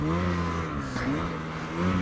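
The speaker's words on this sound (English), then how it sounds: "So you can hear the turbo working away there." Ski-Doo Summit Expert Turbo snowmobile running on a mid-December trail ride, turbo spooling with a steady whirring engine drone and slight pitch rises, loud and continuous with no voices.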